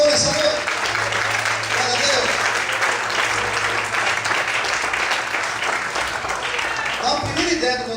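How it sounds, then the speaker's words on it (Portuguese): Church congregation applauding the Lord during an evening service, a sustained full-room clapping roar with a low hum beneath and some voices mixed in, steady throughout before easing near the end. "Podemos aplaudir ao Senhor essa noite?"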